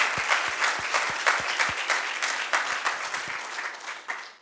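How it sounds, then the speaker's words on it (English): A symposium audience applauds the speakers after a full session on World TB Day, with crisp nearby claps over a steady wash of crowd clapping that gradually tapers off. "could we give a big round of applause to all of our speakers for their talks?"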